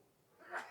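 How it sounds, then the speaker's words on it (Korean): A single short sneeze picked up faintly by a microphone left on in a church broadcast room, a soft breathy burst rising near the end. "재채기 소리가 아주 리얼하게 들립니다"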